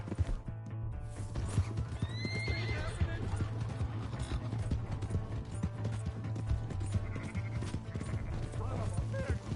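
A horse whinnies amid rapid clip-clopping hooves in Red Dead Redemption 2, with galloping rhythm continuing throughout and voices speaking over it.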